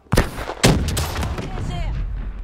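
Black Ops 3 gunfight with a grenade blast: two sharp, loud bangs open the moment, followed by a dense run of rapid gunshots and booming reports that trail off, with a voice briefly under the firing.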